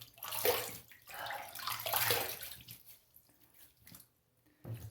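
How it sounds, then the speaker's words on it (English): Water splashes by hand as a face is wetted at a sink before a shave, in close bursts over the first two seconds, then quieter trickles and drips, with a final splash at the end. "Let me wet my face and get it going."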